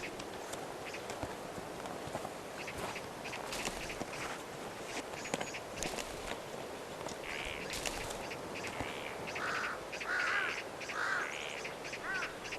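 Vultures squabble over an animal carcass on the Mongolian steppe, with harsh scattered calls and croaks, scuffling and flapping noises, growing more clamorous toward the end.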